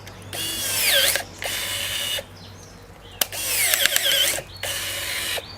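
Budget Azito ratchet pruners, rated for 25 mm, cutting through a thick branch, giving close, loud rasping mechanical bursts in several separate strokes with squeaking and clicking ratchet action and brief pauses between them, with no talking.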